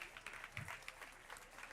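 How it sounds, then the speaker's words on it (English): Faint, steady applause from a crowd at a board meeting, soft and distant, with no clear pauses. "Let's give him a big round of applause."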